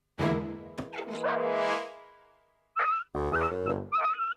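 A small cartoon dog gives high, whimpering yips and a couple of short barks, close and loud, in separate bursts with a pause between them.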